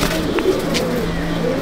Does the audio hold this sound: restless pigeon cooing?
yes